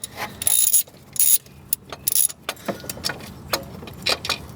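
A tensioner pulley bolt comes off a 2001 Mercedes-Benz W210 E320 wagon, heard as quick bursts of metallic ratcheting clicks between lighter taps and clinks of tools, close and with no talking.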